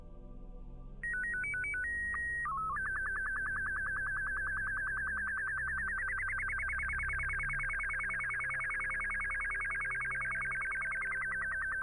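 Electronic radio-chatter beeps from the Chatterer mod in the Kerbal Space Program video game: a quick run of stepped tones, then a long sustained warbling beep, with a faint low hum underneath.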